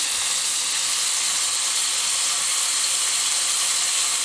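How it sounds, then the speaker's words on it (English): A ribeye steak sizzles in a hot pan with a loud, steady, bright hiss that continues unbroken throughout. "take our delicious ribeye and wait for it. Put it in the pan. Yikes! It's so awesome. I love that sound."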